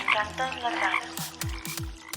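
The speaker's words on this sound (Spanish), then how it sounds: "Donde cantan las ranas." Frogs croak from a wetland in the eastern hills near Bogotá, the calls coming as a run of sharp, rhythmic croaks that are close and clear, after a stretch of higher chirping calls.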